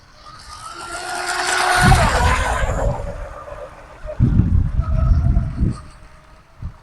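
A J&R Marine H15 American-made RC hydroplane boat engine swells to full throttle as the boat passes, a high buzzing whine that rises, fades, then returns in a loud burst.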